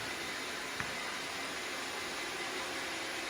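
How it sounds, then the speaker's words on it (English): Steady broadband whir of a Roomba robot vacuum running nearby, picking up husky hair, a constant hissing motor drone with one faint click partway through. "that noise you hear is my Roomba cleaning"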